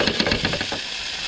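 Whiting fish frying in a pan, a close, steady sizzle with a few soft stirring or scraping strokes early on before it settles into an even hiss.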